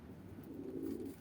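Domestic pigeons, including white birds and young whites, coo softly and continuously inside a backyard coop in Mardin, a low murmuring drone lasting just over a second with no talk.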